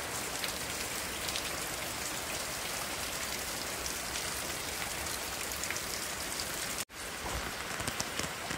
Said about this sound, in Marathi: रात्री आलोय तसा पाऊस सुरू आहे